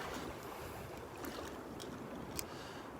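Small waves washing over beach sand at Delnor-Wiggins, a soft continuous wash and fizz with a few faint crisp splashes, fairly quiet and unaccompanied by talk.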